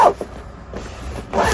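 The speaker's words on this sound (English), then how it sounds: "So that zips all around." A zipper pulled along a Bange waterproof laptop backpack, a short close rasping zip that runs alone for just over a second.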